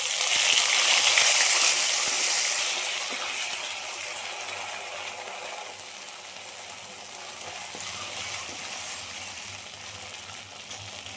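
Ground spice paste sizzles in a mix of oil and ghee where potatoes were just fried, bursting into a loud hiss at first and then settling into a steady, softer sizzle.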